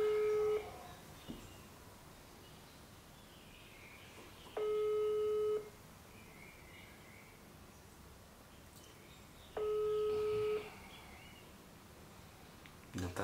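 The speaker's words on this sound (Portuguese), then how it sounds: "vou ligar pra ela, vamos ver como que tá a situação entre a gente" Phone ringback tone heard while calling someone: two long electronic tones a few seconds apart over quiet background, with faint voices at the start.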